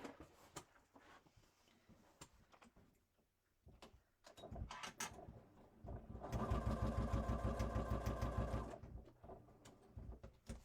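A sewing machine stitches a box pattern to attach black Velcro onto bag fabric. Scattered soft handling taps come first, then a near, steady mechanical whir of stitching runs for a few seconds before stopping.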